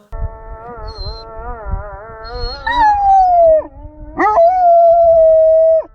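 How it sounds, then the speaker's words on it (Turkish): A drawn-out melodic wail of the Islamic call to prayer rising and sliding, joined by long mournful dog howls that swell loudly and hold, close by. "Ezan okunurken köpekler neden havlar?"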